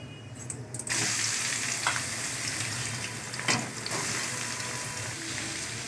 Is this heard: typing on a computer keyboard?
no